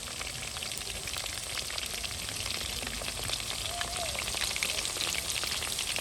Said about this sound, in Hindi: इसको डाल दिया फ्राई में, ऑयल में बस फ्राई हो रहा है।